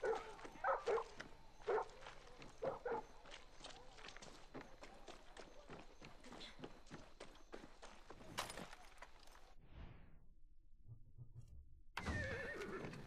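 A horse neighs in Far Cry 6, short whinnies early on over quiet game ambience and clattering steps, followed by a lull and a noisy burst.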